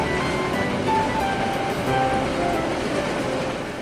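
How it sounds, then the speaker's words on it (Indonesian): Freight container train hauled by a CC206 diesel locomotive, heard as a steady, loud rumble of rolling wagons with faint rail clatter and squeal, continuous throughout with no talking. "ada kereta api barang peti kemas yang ditarik oleh lokomotif CC206-1355."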